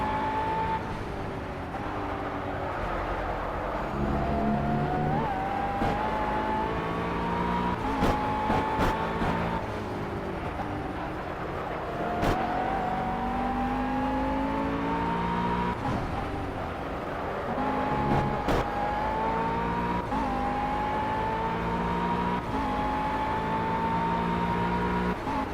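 Race cars lap Brands Hatch in the Project CARS racing game, engine notes rising and dropping as gears shift, with a steady drone and repeated climbing whines over a long stretch, no speech.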